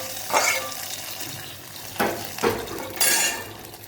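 A fried tempering of curry leaves is poured into a Tamil buttermilk curry, mor kuzhambu, making a few short, sharp sizzling bursts with clinks from a pan in between, fairly quiet and close.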